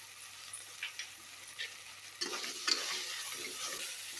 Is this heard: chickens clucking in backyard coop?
no